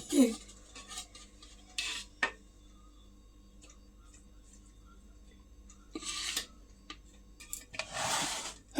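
A spoon scraping and clinking against a pot while serving chicken biryani, with a few scattered metallic taps and scoops between quiet stretches, close and moderately soft.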